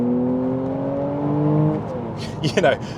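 A Mercedes-AMG C43 in comfort mode kicks down from fifth to third gear: a steady engine drone shifts abruptly, then revs rise, heard from the cabin under someone speaking.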